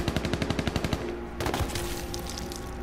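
Rapid bursts of automatic gunfire in the H1Z1 video game, a quick regular run of sharp shots followed by a louder close blast and continuing rattling fire.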